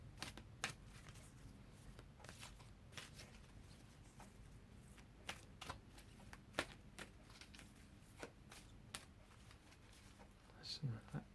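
A deck of oracle cards is shuffled close up in soft repeated riffling bursts with short pauses between, quiet and crisp against a hushed background.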